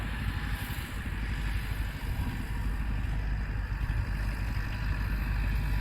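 A tractor engine runs steadily while levelling farmland, its low, throbbing drone continuous and moderately loud with a rough, chugging texture and no voices.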